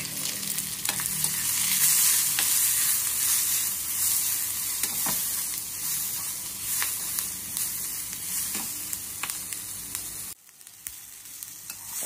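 Chopped onion frying in hot oil for stuffed methi paratha, a steady close sizzle with occasional stirring scrapes, dropping off sharply near the end.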